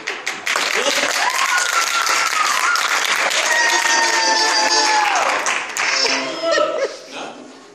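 An audience at a church gospel quartet performance applauds continuously, with voices and light chuckles mixed in before the clapping tapers off toward the end.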